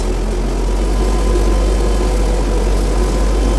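MTZ tractor engine pulling away under load, a steady, loud, low diesel drone with a constant rumble and no pauses.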